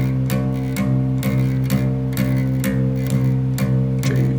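A bass guitar plays a song line: evenly paced plucked low notes, about nine in a row, clear and alone without any voice.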